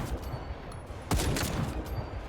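Sniper rifle fire in the video game The First Descendant: one sharp, loud report about midway, then a fading echo over a noisy game backdrop.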